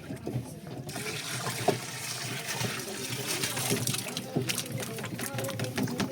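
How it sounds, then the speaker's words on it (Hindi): Jivamrit mixture of soil, gram flour, jaggery and water being stirred by hand, giving a continuous sloshing, trickling liquid swirl throughout, fairly close and steady, with faint background voices. "और अब हम इसको फिर से 5 से 7 मिनट घुमाएंगे घड़ी की सुई की दिशा में।"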